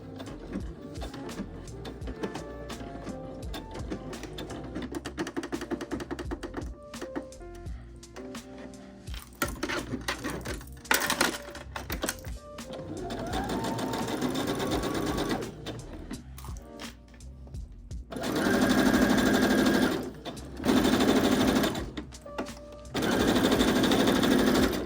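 A sewing machine stitches a back seam on a vest, running in repeated bursts of mechanical whirring and ticking, with short stops between runs and louder, steadier stretches toward the end.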